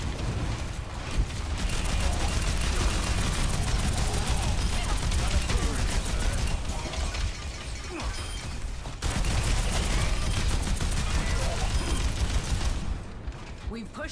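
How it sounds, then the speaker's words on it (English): Gunfire in Overwatch 2 during the Invasion campaign, a dense continuous rattle of rapid shots and mechanical clatter, loud and sustained across the whole stretch with a brief break, voices partly buried beneath. "I started shooting"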